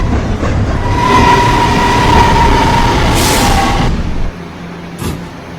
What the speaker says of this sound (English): This is a Potatoburg bound and local train.